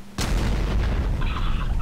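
C4 bomb blowing up in Garry's Mod: a sudden loud blast after a short quiet moment, then a heavy rumbling roar that stays loud, with a high tonal ringing entering later.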